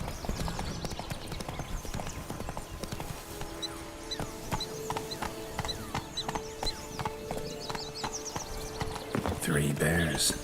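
Roach, the horse in The Witcher 3: Blood and Wine, trots with steady, close clip-clopping hooves throughout, a faint whinny mixed in, over game music and ambience while someone talks now and then.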